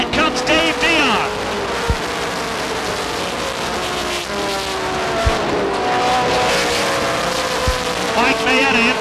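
Stock race cars roar around the oval at Beech Ridge Motor Speedway, engines whining and shifting pitch as they pass, with tire squeal and a commentator talking over the loud, continuous racket.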